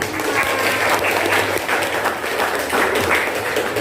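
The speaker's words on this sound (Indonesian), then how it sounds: "Tepuk tangan untuk kalian." Students in a classroom guidance session applauding together, a full, continuous burst of clapping that stays loud and close throughout.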